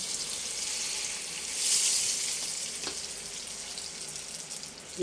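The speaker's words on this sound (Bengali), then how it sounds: "তেল দিয়ে আমি ডিমটা হালকা একটু ভেজে নেব" Eggs frying in hot oil with salt, a soft steady sizzle that swells briefly in the middle, with a faint tap or two of a utensil.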